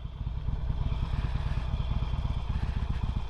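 Low rumbling throb of a 2008 Harley-Davidson Sportster 883L engine heard from the rider's seat, a steady pulsing drone with some clatter and wind noise and no talk.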